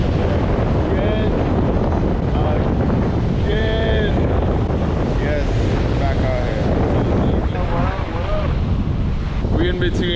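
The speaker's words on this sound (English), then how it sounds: "Back out here on the beach." Wind buffets the microphone over rolling surf on an ocean beach, recorded from a rock between the Ocean Club Hotel and the Vanderbilt Hotel. Someone talks close by throughout the steady, loud roar.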